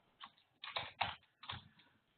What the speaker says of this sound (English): and my poor typing.